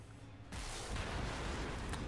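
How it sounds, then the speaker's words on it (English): Rocket fire from a dreadnought in the tabletop-style war game Warhammer 40,000 Sanctus Reach, heard as a sudden loud rushing burst that holds steady as a dense roar with no talk. "Oh, it's firing rockets."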